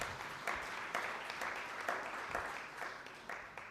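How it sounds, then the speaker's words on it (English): Audience applause for a panel at a climate and security conference in Berlin, a moderate wash of clapping with a few sharper bursts, heard at some distance in a large hall. "A better round of applause for PS Dr. Korir and the panel."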